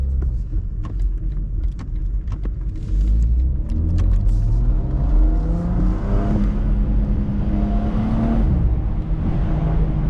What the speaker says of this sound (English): we are going to go ahead and put the 8-speed ZF automatic into drive